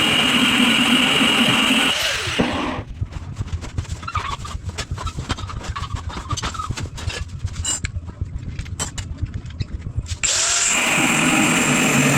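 A handheld power grinder cuts into a granite countertop during installation, a steady, loud, gritty whine running for about eight seconds, with a louder motor hum before and after.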